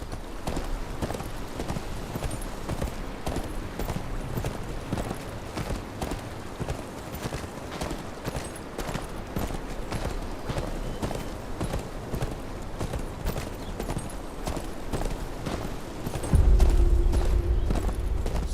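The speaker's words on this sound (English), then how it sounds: "Where's your horse? Mount up and let's go." Horse hooves clip-clopping steadily in a video game set on the road to Winterfell, a continuous rhythmic trot over a dense bed of ambient noise, with a low rumble joining near the end.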